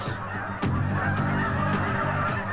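Dense honking from a big flock of geese, dozens of calls overlapping in a constant clamor, fairly close and loud.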